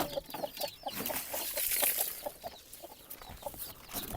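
A hen clucks in a repeated, steady rhythm from inside a wooden egg-laying box in a backyard coop, close and moderately loud, with faint rustling behind it.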